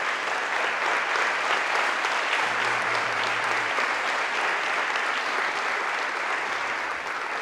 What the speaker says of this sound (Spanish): Dale un fuerte aplauso entonces a Jesús.